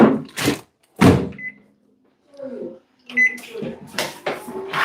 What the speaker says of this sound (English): What did you just put in the microwave?